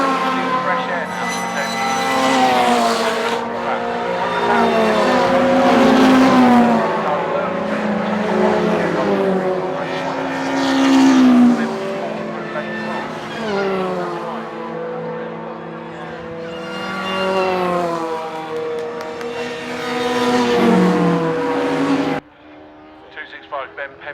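Hot hatch race cars at Castle Combe circuit roar past with rising and falling engine notes and repeated gear changes, loud and close, while a commentator talks over them throughout.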